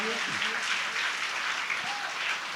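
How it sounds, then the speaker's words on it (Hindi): A crowd applauding at a Hindi poetry recital, steady dense clapping throughout with a faint voice or tonal sound briefly underneath. "तालियां आप बजा दीजिए"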